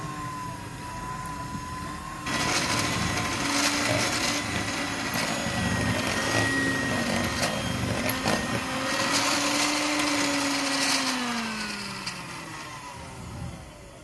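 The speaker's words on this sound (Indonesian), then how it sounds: "Mixer dengan kecepatan rendah, kemudian dinaikkan dengan kecepatan sedang sampai berwarna pucat dan creamy." An electric hand mixer beats margarine with powdered sugar for a cat's-tongue cookie batter. It starts as a quiet hum, then steps up to a louder, steady whirring drone with shifting pitch, and winds down near the end.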